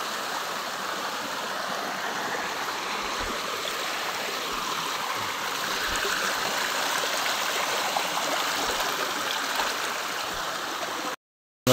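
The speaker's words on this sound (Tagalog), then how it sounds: "at may talon" Steady rushing of a waterfall and flowing stream, continuous and fairly close, a broad even wash of water noise with no talking, ending in a brief silence.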